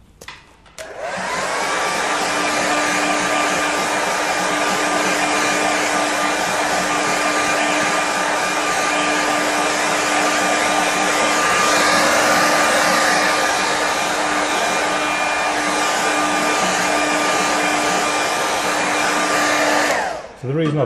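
A hair dryer runs steadily on a freshly painted woodland scene, a continuous close whine and rushing airflow that starts abruptly and holds at constant loudness for about twenty seconds before switching off.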